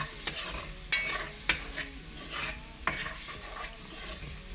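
Garlic frying in a hot pan for rougail saucisse, stirred with a few sharp scrapes and knocks of the utensil over a steady close sizzle.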